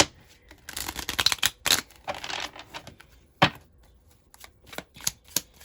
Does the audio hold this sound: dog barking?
no